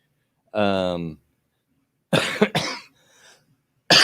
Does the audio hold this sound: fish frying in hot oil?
no